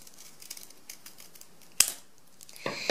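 Scissors snip through thick folded paper for a snowflake, a few soft cuts followed by a sharp close snip and a crisp crunching cut at the end, with no talking.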